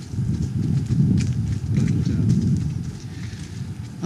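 Steady clip-clop of horse hooves walking along an outdoor trail during a ride, a continuous moderately loud plodding under a low rumbling background with no talk.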